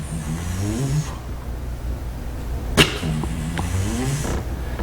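A human voice imitates a strutting adult turkey gobbler, giving low wavering drumming hums against a noisy background. A single sharp spit-like burst sounds near the middle.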